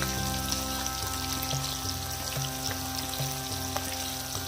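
Pieces of rohu fish fry in hot oil for a Bengali five-spice fish curry, giving a steady, close, crackling sizzle that holds at an even level throughout with no talking.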